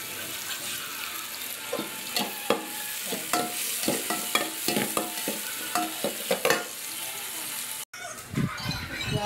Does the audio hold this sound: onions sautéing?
yes